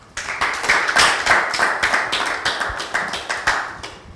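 A studio audience at a talk show applauds loudly and close by, the clapping uneven at first and then settling into a rhythmic beat before tapering off, with no one talking.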